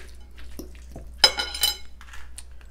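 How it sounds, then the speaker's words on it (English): A utensil stirs peas into arancini stuffing in a pan, producing a few soft clinks and scrapes, two of them slightly sharper, against a quiet kitchen background. "Throw your peas in there. Just give that a stir."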